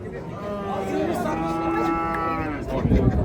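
Cattle at a livestock market give one long, drawn-out moo lasting a couple of seconds, close and clear over a murmur of background chatter, followed by brief shuffling noise.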